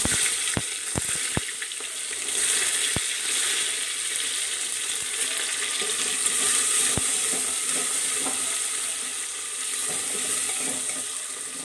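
Chopped onions fry in hot mustard oil after a spice tempering, giving a steady, close, hissing sizzle that runs throughout with a few sharp clinks of a spoon early on, no voices.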